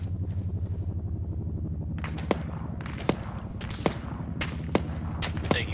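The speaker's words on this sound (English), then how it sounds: "Taking fire." Arma 3 battle gunfire: sharp, separate shots crack out at irregular intervals over a steady low rumble of combat, with a few louder reports standing out near the end.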